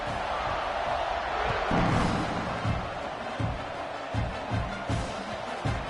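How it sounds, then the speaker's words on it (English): A football stadium crowd keeps up a steady, dense roar after a score, with a broadcast commentator talking over it and a few louder thumps scattered through. "this crowd is buzzing after that last score"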